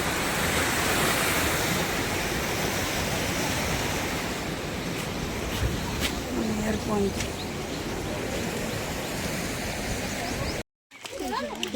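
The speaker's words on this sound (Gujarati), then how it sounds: "આ બાજુ પાણી પણ પડે છે" Continuous rushing water like a steady cascade from a dam, broadband and fairly loud, with faint voices now and then and a brief cut near the end.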